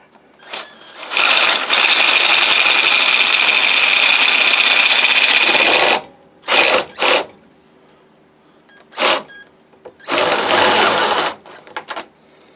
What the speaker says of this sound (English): I can take the drill with this thing